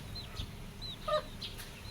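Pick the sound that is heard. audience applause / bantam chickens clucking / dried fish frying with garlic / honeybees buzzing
bantam chickens clucking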